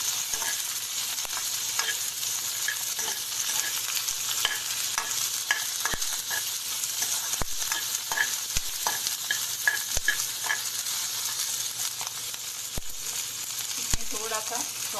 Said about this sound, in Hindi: थोड़ा फ्राई होते ही कैप्सिकम पीसेस डाल दीजिए।